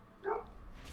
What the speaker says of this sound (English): dog is interrupting you